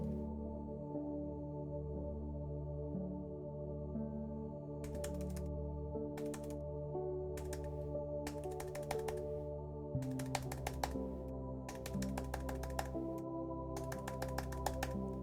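Computer keyboard keys are tapped in short irregular bursts of quiet clicks over a constant game soundtrack and hum, some clusters faster than others.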